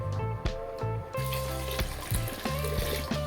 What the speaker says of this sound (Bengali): এতে 2 কাপ মতো জল দিয়ে দিলাম।